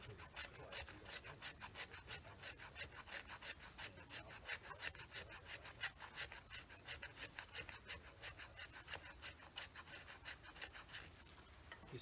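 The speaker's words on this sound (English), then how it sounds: "we're just going to scrape" A knife spine tilted forward scrapes along wood in quick, even rasping strokes, close and fairly quiet, repeating steadily over a faint background hiss.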